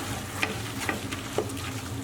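Onions stirred with plain flour and brown sugar in a pot for French onion soup, a few soft scraping strokes over a low steady sizzle, close and fairly quiet, no talking.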